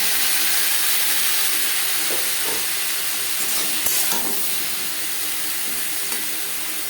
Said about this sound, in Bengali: তেল গরম হয়ে গেছে এবার দিয়ে দেবো বরবটি